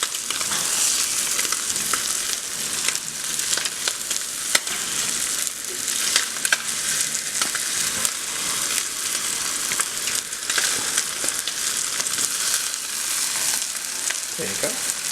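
Spam slices frying in a pan for musubi, a continuous bright sizzle with crackling pops and occasional sharper spits, close and fairly loud, with no talking over it.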